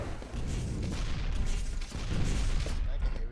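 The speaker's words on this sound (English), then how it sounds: "that's exactly what he's looking for with the railgun shots" Quake Live railgun fire during a grand-final duel, dense bursts of sharp shots and booming impacts layered over a steady low game rumble, with talk running underneath throughout.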